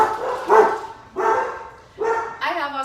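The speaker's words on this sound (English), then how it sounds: "I have Australian Shepherds, what can I say? They're barking at the helicopters flying overhead." Australian Shepherds bark at helicopters overhead: four sharp, loud barks spaced about a second apart, close by and with no talking over them.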